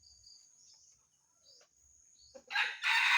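A mestizo red junglefowl rooster lets out a loud, close crow near the end, after a quiet stretch filled with a thin, steady insect hum.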